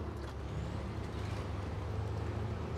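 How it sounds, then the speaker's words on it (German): An ANK MK38 truck in the Snowrunner video game brakes with an air-brake hiss over a steady, heavy engine rumble that holds throughout, with no talking. "Okay, Bremsen funktionieren auch gut."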